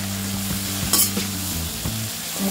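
Eggplant curry with salt and turmeric is stirred in a hot pan, a spoon scraping through it against a steady close sizzle of frying.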